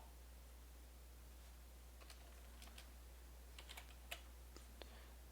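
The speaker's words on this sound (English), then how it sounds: "And I'm going to type snow here" Typing on a computer keyboard during Unity level editing: a few sparse, faint key clicks in short bursts over a steady low electrical hum, with no talking.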